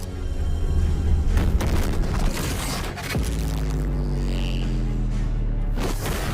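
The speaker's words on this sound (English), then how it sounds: "The magical barrier Whis had created to protect the planet exploded." An anime-style sound effect of a magical barrier exploding: a loud, sustained booming roar with a deep rumble, a sharp crack partway through, then a lingering heavy drone, with no voices.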